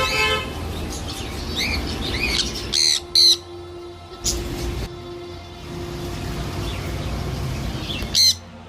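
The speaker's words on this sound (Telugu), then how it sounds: "ఈ చిలుకలు అయితే ఇలా పక్కకు వచ్చి మరీ పిలుస్తుంది" Parrots and small caged birds at a bird shop squawk and call in sharp, loud bursts, several piercing cries standing out over a busy background of chirping and chatter, close by.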